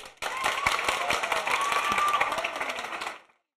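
A small group claps and applauds for about three seconds, a dense patter of hands that stops abruptly.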